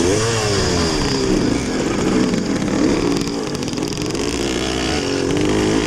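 Vintage motorcycles on a motocross course at a vintage Coyote event, a loud, continuous buzzing engine drone with shifting revs from several bikes riding close by, no talk.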